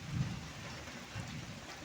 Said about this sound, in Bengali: যেমন বিদ্যুৎ চমকাচ্ছে ঠিক তেমনি বৃষ্টিটাও হচ্ছে জোর